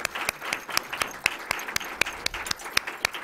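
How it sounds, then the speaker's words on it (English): Audience applause for panelists at a discussion on women's political participation in the Arab uprisings, a modest crowd clapping with sharp individual claps standing out in a steady beat. "Please join me in thanking our panelists with a big applause."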